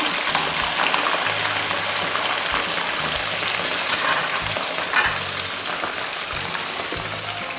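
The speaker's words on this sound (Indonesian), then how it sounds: "Nih saya goreng dulu ikannya ya." Salted snapper sizzles loudly in a pan of hot oil, a dense, steady crackling fry that goes on without a break and with no one speaking.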